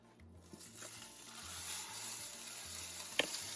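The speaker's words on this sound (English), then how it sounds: "we're going to go ahead and add in our turkey to the pan" Ground turkey sizzling in a lightly oiled pan, a soft, steady frying hiss with a faint scrape near the end, low and quiet throughout with no talking.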